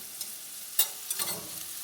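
Mushrooms sauté in a pan, a steady soft sizzle broken by a few brief stirring scrapes, heard close and fairly quiet.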